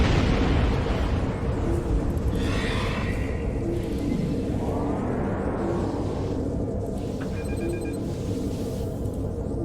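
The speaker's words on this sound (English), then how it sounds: "And boom goes the dynamite." Starship explosion in the video game Star Trek Online, a loud, sustained roaring rumble with sweeping synthetic tones and electronic pings layered over it, heard alone without voices.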